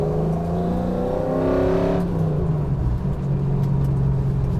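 A solid-axle drift truck engine held at the rev limiter, a loud sustained buzzing drone with stacked harmonics that dips in pitch partway through as the revs fall and then settle into a steady rumble.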